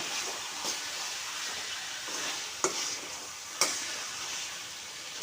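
Ingredients for a restaurant-style chicken gravy sautéing in a pan, giving a steady close sizzle and hiss with a few sharp stirring scrapes or clinks breaking through.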